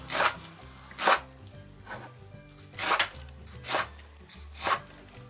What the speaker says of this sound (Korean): 배추김치 내장에서 40장 정도를 잘게 송송 썰어주세요